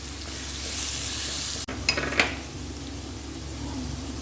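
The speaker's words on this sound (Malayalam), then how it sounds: "അതുപോലെ ഒരു 10-20 ചുവന്നുള്ളി ചതച്ചത്, പച്ചമുളക്, കുറച്ച് കറിവേപ്പില എന്നിവ ചേർത്ത് നല്ലപോലെ ഒന്ന് വഴറ്റിയെടുക്കാം നമുക്ക്" Crushed shallots, green chilli and curry leaves being sautéed in a pan, a steady close sizzle broken by a sharp clink of a spoon and a few scraping stirs, then the frying hiss continues alone.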